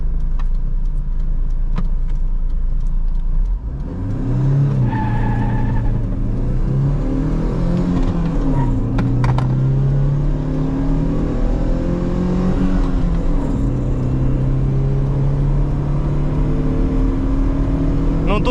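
A Daewoo Lanos, a Sens 1.3 converted to a 1.6 engine, accelerates hard, its engine note climbing in pitch, dropping at gear changes and climbing again, loud and close over a constant low drone.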